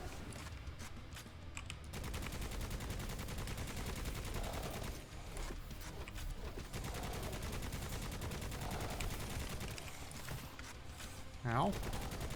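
Sustained machine gun fire in the first-person shooter Necromunda: Hired Gun runs almost unbroken for about twelve seconds, dense and steady, with combat noise layered in and a brief voice near the end.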